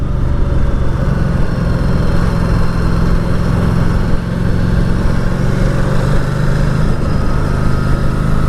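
A 2019 Ducati Diavel 1260S with its standard exhaust runs at a steady, loud, close engine rumble for several seconds, the tone holding even with little change in revs.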